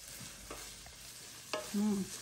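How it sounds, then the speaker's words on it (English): Ground meat cooking in a pan for a stuffed pepper casserole, stirred with a few soft scrapes and faint sizzling, closing with a brief louder tonal clink. "Start stirring this up."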